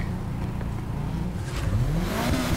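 Race car engine in the NFS Heat video game at the start of a circuit race, a steady idle rumble that rises into a loud climbing rev toward the end.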